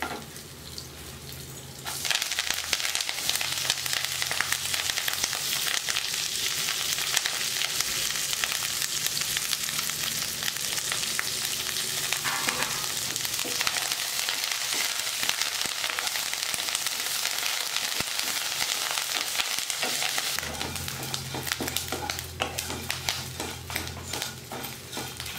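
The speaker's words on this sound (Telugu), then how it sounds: "ఇప్పుడు ఇందులో కరివేపాకు వేసుకుందాము" Curry leaves hit hot oil in an Indian home kitchen, setting off a loud, steady crackling sizzle that holds for about eighteen seconds before easing back to a quieter low simmer; no one speaks.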